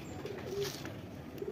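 Saharanpuri Kalojira pigeons in a cage give soft, close cooing over faint background noise.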